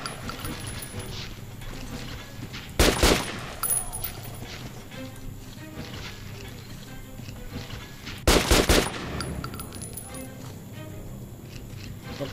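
Gunfire in the Metro Last Light video game: two sharp, loud bursts of shots about five seconds apart, plus a smaller shot in between, over a quiet, steady game ambience.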